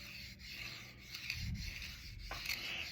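Soft, rhythmic rubbing strokes of rosin on a viola bow, a dry scratchy back-and-forth texture, quiet and close.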